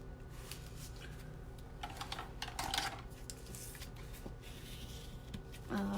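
Plain pre-cut 6 by 12 inch cardstock is folded and pressed by hand, giving soft, faint papery rustles and a brief crisp crease in the middle against a quiet background.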